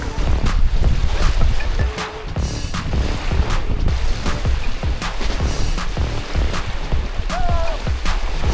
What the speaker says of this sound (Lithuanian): Pučia, matot kokios bangos, ne?